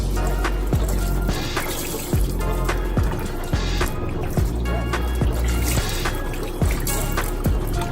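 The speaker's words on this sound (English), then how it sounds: "now we're gonna wet the rag again and wring it out" Running water splashes and trickles while a wet rag is dipped and wrung out at a kitchen sink after soap cleaning, with repeated bursts of dripping and squeezing as the cloth is worked.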